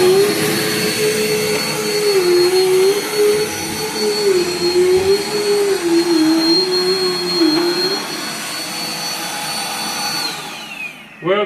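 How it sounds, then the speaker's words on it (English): A Dirt Devil vacuum cleaner runs on carpet with a loud, steady motor whine and airflow roar whose pitch wavers slightly, then shuts down near the end. "Dirt Devils are pretty aggressive on carpet."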